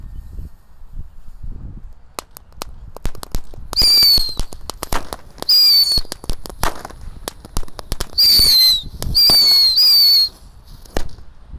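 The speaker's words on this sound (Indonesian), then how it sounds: "Di sini ada mercon tikus tor. Sudah menyala bosku. Roket tikus tor." Indonesian mercon tikus rocket firecrackers, set off for New Year, fizz and crackle in a rapid string of loud pops, with several shrill whistling bursts rising over the crackling, close by and outdoors.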